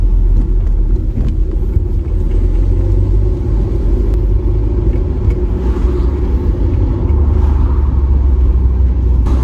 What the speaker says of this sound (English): Right, time to hit our first speed bump.